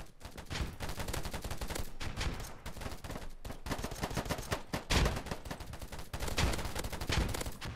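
Sustained bursts of rapid gunfire from the video game Polygon, dense and loud throughout, with automatic fire overlapping and pausing only briefly between volleys.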